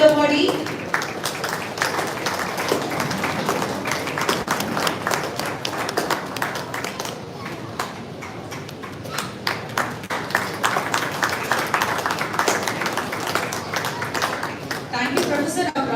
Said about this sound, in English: Big round of applause to our esteemed awardee.